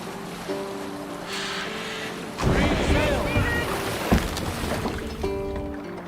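A longship cuts through wind and open water in Assassin's Creed Valhalla, with a steady whoosh of wind and waves swelling louder midway, a few sharp splashes, and tonal music or voices layered over the water.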